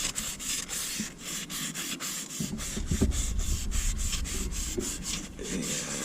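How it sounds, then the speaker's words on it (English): A Scotch-Brite pad scrubs rust off a cast iron skillet in steady back-and-forth strokes, a close, continuous abrasive rubbing with no talking. "Just take a little piece of Scotch-Brite here."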